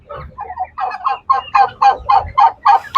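Large, heavy year-old birds kept on a house rooftop call out in a loud, close series of honking, gobbling cries that come in a steady rhythm, roughly three per second, with no talking.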